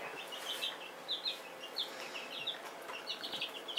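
Soft, high chirps and peeps from small chickens, including a young black rooster, come in scattered bursts over a quiet background, fairly faint and close by.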